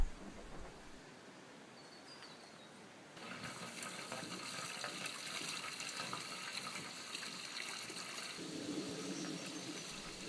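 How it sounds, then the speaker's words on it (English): Kitchen sink waste water from an off-grid container home gushing out of a white pipe into a tub, a steady rushing flow that starts quieter and swells after a few seconds, then continues evenly. "The kitchen sink waste comes out of the white pipe and goes into the tub."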